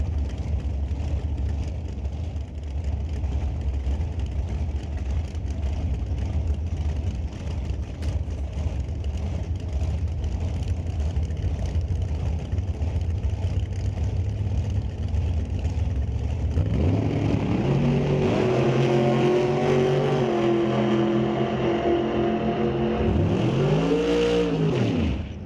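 A dragster at a drag strip: a steady, loud engine drone that swells into a high, rising, racing roar with falling and rising pitch sweeps toward the end, close and continuous.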